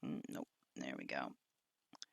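Two quick clicks of a computer mouse while working in ZBrush software, close and sharp, come right after a stretch of talking.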